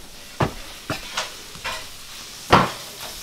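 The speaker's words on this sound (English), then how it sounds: "I hear cooking noises." Bacon, onions and mushrooms for a quiche frying in a pan, with faint sizzling and several distinct scrapes and stirs of a utensil against the pan, nearby with no talking.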